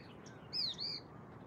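A small bird gives two quick, bright chirps in bushes among the hills of Jim Corbett, a brief double call over a quiet outdoor background.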